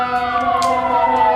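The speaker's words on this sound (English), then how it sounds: "I live in Newark, so those are the sirens for Newark." Emergency vehicle sirens wail outside in Newark, a loud, sustained tonal howl that holds steady throughout with no voices.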